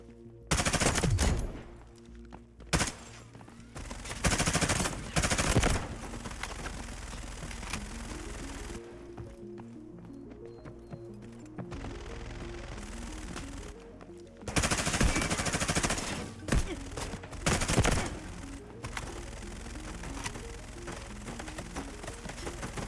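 Gunfire in the shooter Delta Force, with rounds punched through a wall: sustained machine-gun bursts and scattered shots rattling in loud clusters, broken by quieter gaps between volleys.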